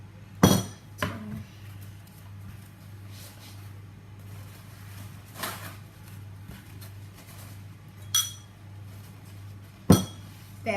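Scattered clinks of a utensil striking a bowl while Victoria sponge batter is mixed with butter and caster sugar, a few sharp taps spaced seconds apart over a faint steady hum.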